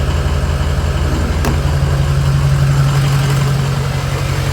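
A 1986 Ford bullnose truck with a swapped 6.0 Powerstroke diesel idles with no exhaust fitted: a loud, steady, close-up rumble with a low, even throb that holds throughout.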